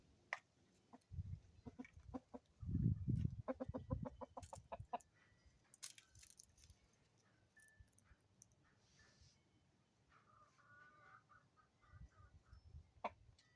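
Soft rooster clucks repeated in a quick cluster, fairly close, then scattered quieter calls and faint chirps over low background noise.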